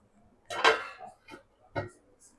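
A lid set onto a pot of Afghani malai kofta gravy, giving a few close metallic clinks and knocks against the rim in an otherwise quiet kitchen.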